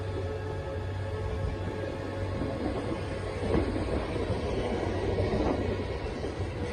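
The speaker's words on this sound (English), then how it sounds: "Trains heading east." Trains rolling east along Northwest Highway, a steady low rumble with rail rattle sustained throughout, moderately close and continuous with no talk over it.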